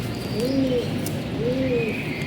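Racing pigeons coo twice in a soft, low, rounded rhythm, close by, over a constant background hiss.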